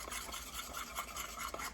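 Yellow gel food coloring stirred into a Christmas cookie mixture, a continuous soft scraping and swishing of a utensil against the bowl with faint rhythmic strokes.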